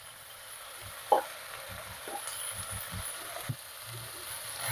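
Soft, even sizzle of vegetables for a thin Bengali sabji frying in a pan with a little salt and turmeric, broken by occasional scrapes and taps as a spatula stirs them; quiet and close, with no talking.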